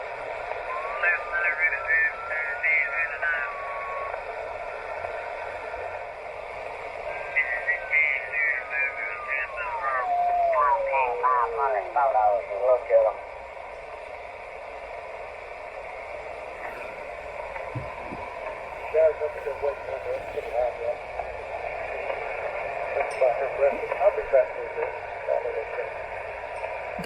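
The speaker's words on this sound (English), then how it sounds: "Got some atmospheric noises you can hear, the click, click, click." Faint crackling static and scattered clicks on a shortwave radio, with whistling tones sweeping across the band and hiss throughout.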